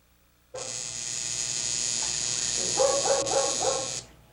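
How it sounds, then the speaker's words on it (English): A steady electric buzzing hum of a tattoo machine tattooing a Doberman's inner thigh runs for several seconds, close and constant, with the dog whimpering faintly beneath it. "The Doberman Rescue League is painlessly tattooing this Doberman's inner thigh."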